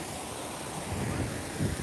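Ambient water at Volcano Bay water park: a soft continuous wash of splashing and surf-like rushing, steady and fairly faint, with no clear voices.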